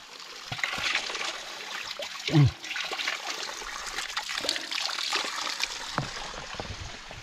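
Mountain spring water trickles and splashes steadily near a trekking trail to the Banaue rice terraces in Ifugao, with a short louder gurgle midway and faint voices in the background.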